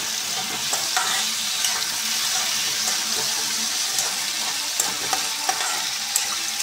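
Sabudana sautéing in a pan for a fasting snack, a steady close sizzle with a rattling stir of the pearls and frequent small scraping clicks throughout, no voices.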